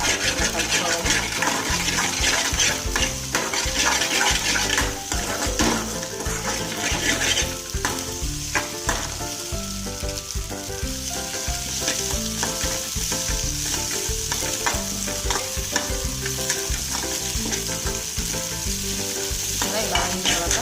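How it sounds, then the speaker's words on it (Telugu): Semiya egg noodles stirred in a hot pan: a loud, continuous sizzle with constant scraping of the spoon, close up and sustained. "అడగంటుతుంది కాబట్టి అడగంటకుండా మాడకుండా కలుపుకోవాలి."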